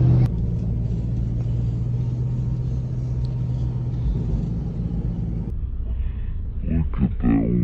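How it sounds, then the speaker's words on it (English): A heavy wood truck rumbles past on a country road in Kentucky, a loud low engine roar heard from inside another vehicle, with someone speaking near the end. "Look at that wood truck over there."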